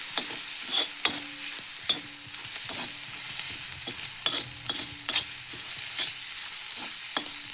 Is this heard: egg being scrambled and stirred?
yes